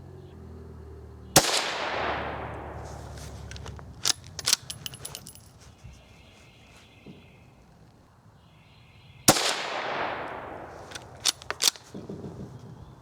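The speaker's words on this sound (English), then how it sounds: "we're going to go ahead and take a few shots at the target on the left" A Winchester Model 275 rifle firing at a target with a clean barrel, two sharp, loud shots several seconds apart, each ringing out into a decaying echo, with faint clicks and clattering handling noises between them.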